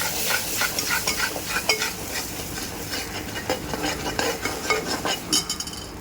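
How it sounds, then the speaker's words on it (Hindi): Ginger, garlic and green chili paste sizzles steadily in a pan for a Bohra coconut chicken curry, with constant crackling and hiss and the scrape of a utensil stirring close up, without talk. "अदरक लहसुन और ग्रीन चिली का पेस्ट, और इसको हिलाते रहना है"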